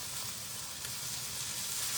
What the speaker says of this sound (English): I'm going to continue to saute this.